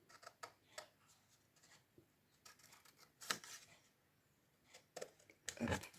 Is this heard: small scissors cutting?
yes